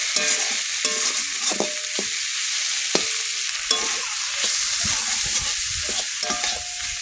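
Fish curry made with elephant foot yam, with chili powder added, sizzles steadily in a pan. Repeated stirring strokes scrape through it at an even rhythm, close and fairly loud, with no talking.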